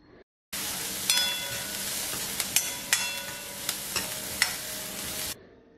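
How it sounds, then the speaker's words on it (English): Onions sauté in hot oil with fennel seeds in a pan, a steady close sizzle broken by several sharp spatula clicks and scrapes against the pan, with brief silence at the start and end. "Add the onions. Saute until onions turn transparent."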